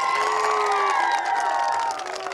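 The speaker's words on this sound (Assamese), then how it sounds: "ককাৰ বাবে এটা হাত চাপৰি লাগিব দেই" A live stage audience cheers and applauds together, a dense, loud wash of whoops and clapping with sustained high shouts from many voices over the whole moment.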